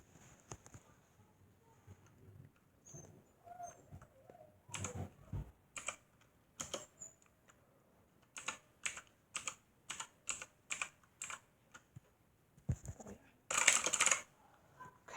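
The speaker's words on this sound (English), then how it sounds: "Just type something interesting." Typing on a brand-new computer keyboard fresh from unboxing, close and fairly quiet: scattered key taps at first, then a fast, steady run of clicks and a louder burst near the end, with no voices.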